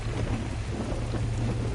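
Steady rain pours with low rumbling thunder during a storm in Far Cry 6, a dense continuous wash of sound with no voices.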